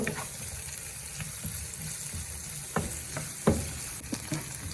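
Green chillies fry in a pan under steady sizzling, with stirring spoon scrapes and a few sharper clatters against the pan, close and moderately loud.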